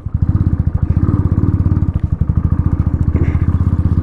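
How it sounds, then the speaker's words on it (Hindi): Motorcycle ridden on a stony dirt mountain road, its engine thumping in a fast, even pulse up close, with faint clatter over the steady beat and no talking. "बाइक इतना स्किट कर रहा है ना पत्थर से"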